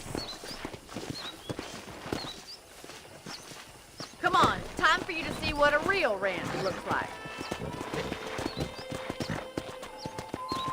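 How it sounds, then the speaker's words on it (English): Horse hooves clip-clop on a ranch in the Red Dead Redemption video game, a steady walking rhythm close by with a brief whinny, while characters talk over them. "let's see if you can still ride a horse."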